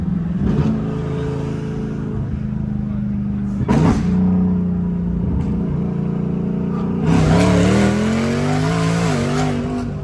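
A turbocharged car with a large Kong 2650 turbo accelerates hard along a road, its engine note rising in long harmonic sweeps through the gears, loud and close from inside the cabin, with a brief lift between pulls.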